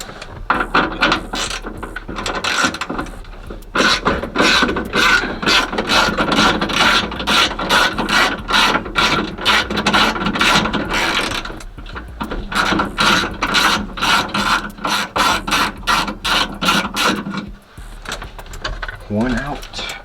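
A ratchet wrench with a 10mm socket clicks in rapid, steady bursts while backing out the window bolts inside the driver door of a Cutlass, loud and close, with brief pauses between runs.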